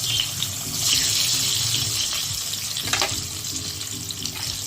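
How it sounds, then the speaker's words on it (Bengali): Eggs sizzling in hot oil with turmeric in a wok, a steady bright hiss of frying close by that swells and crackles in bursts, with no talk. "এই যে কড়াইতে এবার ডিমগুলো দিচ্ছি। ডিমগুলো একটুখানি হালকা করে ভেজে নেব।"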